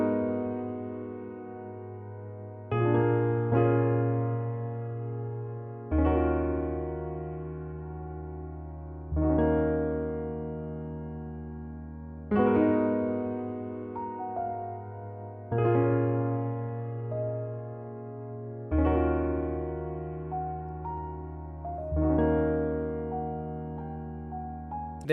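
Dry emotional preset from the Nord Pure contact bank, with no effects, playing a slow sequence of sustained chords, each struck roughly every three seconds and fading before the next, alone without voices.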